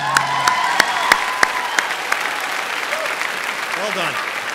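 Continuous crowd clapping at a College of Central Florida graduation ceremony, with a few sharp, sharp claps up close early on. A voice speaks over the dense, steady applause near the end.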